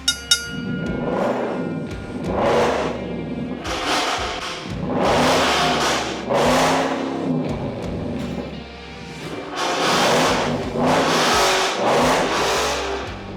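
An Audi Q7 V8 engine starts and revs repeatedly and loudly, rising and falling in bursts over a steady idle rumble, close by.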